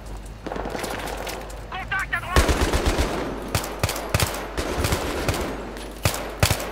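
Pistol fire in the video game Battlefield 3, played in co-op on hard difficulty, gives rapid, sharp shots in uneven bursts over a busy game soundscape, loud and close throughout.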